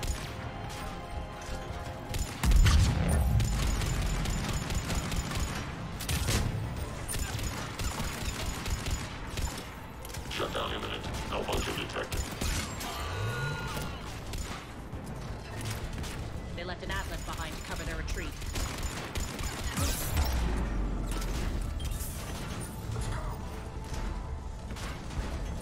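Gunfire in Mass Effect 3 Legendary Edition combat, bursts of shots, crashes and mechanical clatter amid a busy game soundscape, with people talking over much of it.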